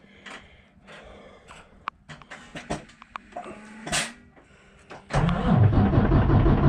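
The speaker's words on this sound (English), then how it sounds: "Thing's been cranking a lot before it starts." A truck engine, likely suffering from clogged fuel filters, cranks for about five seconds in uneven bursts before it catches. It then roars into a loud, rough idle close by.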